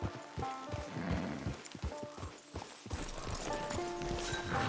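Horse hooves clip-clopping in a video game, a steady rhythmic trot of hollow clops, fairly faint, over soft ambient game music and background sound.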